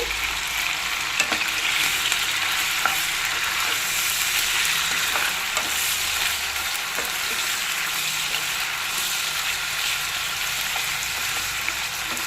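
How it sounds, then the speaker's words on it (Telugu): Mutton brain fries in hot oil with a steady, loud, close sizzle and crackle that continues throughout, with occasional faint clinks of stirring and no talking. "ముందు కొంచెం తలమాసం బాగా యాగనిచ్చుకోవాలి"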